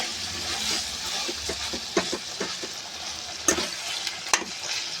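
Moringa chicken curry frying in a pan, a low continuous sizzle broken by scraping, clinking strokes of a spoon stirring, close and moderately loud, with no voices.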